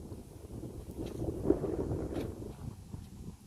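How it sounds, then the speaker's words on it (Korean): Gusty wind buffets the microphone at a lakeside campsite in November, swelling and easing in a low, close rumble with no talking over it. "아직은 11월이라 바람이 불기 시작을 하네요"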